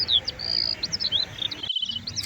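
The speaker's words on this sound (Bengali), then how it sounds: "তার সঙ্গে হালকা হালকা পাখির ডাক" On a quiet, sunny hill morning in Himachal, near green wheat fields, soft high bird calls repeat as short chirps and trills over a faint hum, with a brief dropout near the end.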